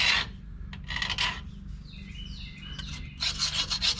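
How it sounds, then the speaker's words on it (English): A metal scraper rasps over a rear differential housing, scraping off old sealer in short, close, uneven strokes over a low steady background hum. "Use that same scraper I used to get it off, and I'm just gonna go around and get all of the old sealer I can off of that rear end housing"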